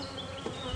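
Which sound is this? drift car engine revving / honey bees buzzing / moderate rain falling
honey bees buzzing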